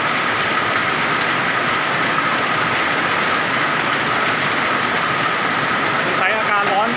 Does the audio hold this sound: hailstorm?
yes